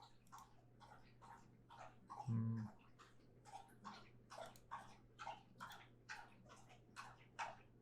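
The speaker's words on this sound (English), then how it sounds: "That's my dog drinking water." A dog laps water from a bowl in a steady rhythm of quick, soft, wet slurps, close and quiet, with no talking over it.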